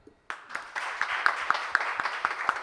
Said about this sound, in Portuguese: aqui eu peço uma salva de palmas para a Vida Azul